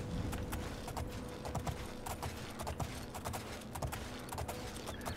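Horse hooves clip-clop in a video game, a steady rhythmic clatter of hoofbeats over a constant hiss of background noise, fairly quiet and continuous throughout.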